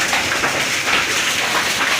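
Heavy rain hammers down with hailstones in a loud, steady, dense roar that stays unbroken throughout, with strong gusting wind and no voices.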